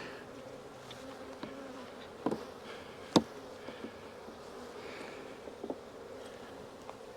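Honeybees hum steadily at an opened hive during an August check of a nuc and hive, a faint continuous buzz with a few louder bees passing close by.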